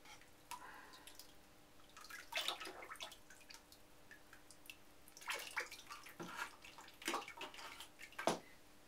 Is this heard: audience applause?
no